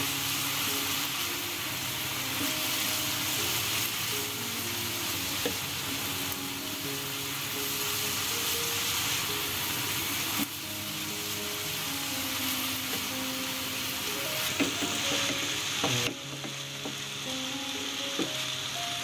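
Cabbage and egg frying in a pan while being stirred, a continuous loud sizzle with scraping stir sounds and a faint steady tonal hum underneath.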